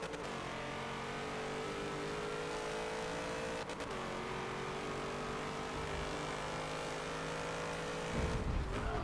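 A Corvette's engine drones steadily under hard racing in the Forza 7 video game, a continuous loud tone that holds its pitch and shifts slightly before a brief change near the end, with no talking.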